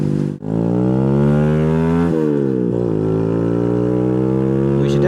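A Boom Vader 125cc Honda Grom clone motorcycle's single-cylinder engine accelerates hard, its buzzing note climbing through gear changes with short dips and rises, close and loud with no talk.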